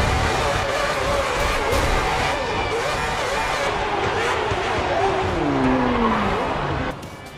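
Race cars in F1 2010 online multiplayer drone and rev together at a steady, fairly loud level, with one engine note sweeping past near the end, and a voice talks over them.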